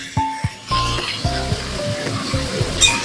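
Bitter gourd and pumpkin slices fry in hot oil in a pan, sizzling steadily and loudly, with a few sharp clinks of a spatula or utensil against the pan.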